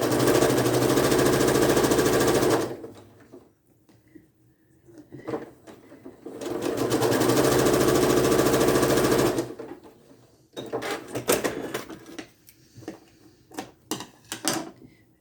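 A sewing machine runs a quarter-inch seam while piecing a log cabin quilt block, whirring steadily in two long close bursts separated by short pauses, followed by a stretch of lighter clicks and handling noises.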